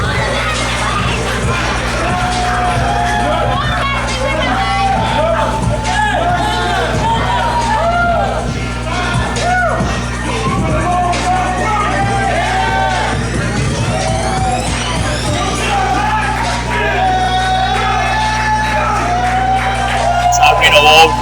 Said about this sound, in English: he's greeted with thunderous applause